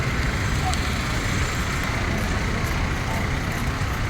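Steady car traffic on a busy Manila city road near a pedestrian crossing, a continuous broadband rumble of passing vehicles with no distinct pauses, fairly close and constant throughout.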